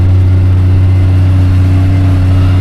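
Tractor pulling a rapeseed seed drill across a field at about 7 to 8 km/h, a loud, steady low engine drone with constant harmonic hum and no variation.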